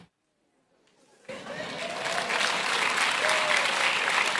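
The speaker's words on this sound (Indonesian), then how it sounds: "Jangan tepuk tangan." A church congregation breaks into applause after a pause of near silence, the clapping swelling and holding steady, broad and somewhat distant across a large hall.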